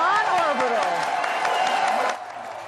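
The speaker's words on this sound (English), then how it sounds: "Lots of cheering going on in these videos." Crowd cheers and applause ring out after a Blue Origin rocket reaches orbit, whoops and clapping over an energetic hubbub while people talk throughout.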